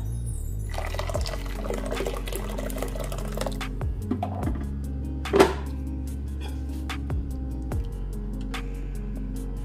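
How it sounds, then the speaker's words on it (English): Hot water pours steadily into a pot for okra soup, a continuous close liquid rush with a few small clinks, without speech. "now what I'm going to do is I'm going to add in my hot water."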